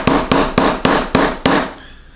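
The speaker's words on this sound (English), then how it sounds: "Go back and get your trusty little ball peen hammer" A small ball peen hammer taps a part of an E-11 blaster prop build: six sharp, evenly spaced metallic strikes close up, each with a brief ring, then the tapping stops.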